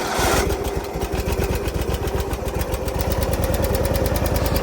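A small lawn mower engine runs steadily at idle right after starting, with a rapid, even chugging pulse that may carry valve noise. It is loud and close, with no voices.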